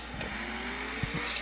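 A racing video game car's engine roars at a steady drone with faint rising tones, a couple of brief thumps near the end.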